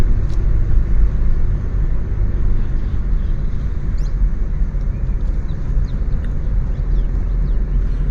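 A car drives along a road through tea plantations in Wayanad, Kerala, heard from inside as a loud, continuous low rumble of engine and tyre noise with no breaks.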